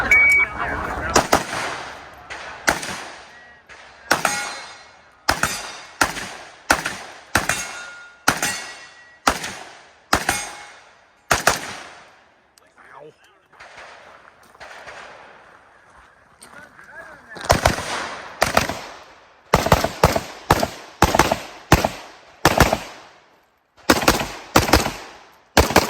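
An AK-pattern rifle fired outdoors, loud sharp single shots in uneven strings with echoing tails, a short lull midway, then more rapid shots.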